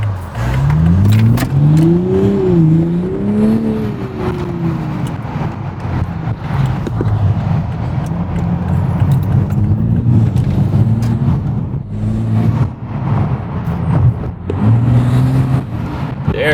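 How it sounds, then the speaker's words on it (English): A Toyota Supra fitted with a new exhaust revs loudly and close by, its engine note rising and falling in several sweeping pulls across the clip, with no talking. "let's hear this thing one more time"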